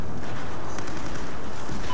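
Battlefield 4 gunfire and explosions rattle in a dense, continuous burst of rapid shots, loud and close throughout a naval strike battle.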